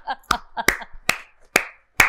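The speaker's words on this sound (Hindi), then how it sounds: "Oh my God, Tali." A handful of sharp, loud claps ring out one at a time in a slow irregular rhythm, about five strikes in two seconds, with brief voiced sounds between them.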